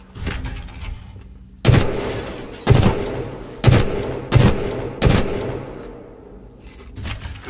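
Titanfall 2 weapon gunfire at a training range: five sharp, loud shots spaced about a second apart, each with a short echoing tail, followed by a fainter shot at the end.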